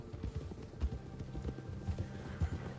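Horse hooves clip-clop along at a steady riding pace in Red Dead Redemption 2, a rhythmic series of soft, near thuds with faint background noise and no speech.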